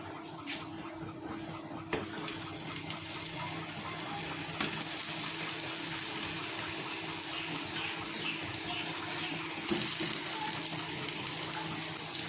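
Dishes washed under a running tap, a steady stream of water with clinks and knocks of utensils, moderately close and continuous.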